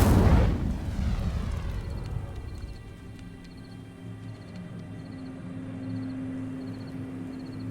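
An Incendio fire spell erupts in the Hogwarts Legacy video game, a loud fiery burst at the start that decays into a crackling rumble with a faint sustained tone.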